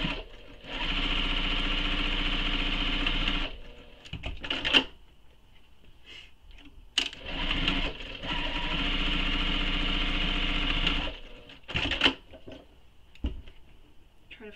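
A sewing machine top stitching the folds of a fabric wristlet, two long steady runs of rapid mechanical whirring separated by pauses with small handling clicks and rustles.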